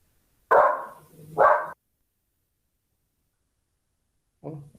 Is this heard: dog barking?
yes